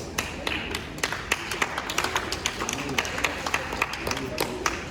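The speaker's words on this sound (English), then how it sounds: "Let's give them a last round of applause" An audience at a debate competition gives a round of applause, dense clapping of many hands with uneven sharp peaks, fairly close and lively, with voices mixed in underneath.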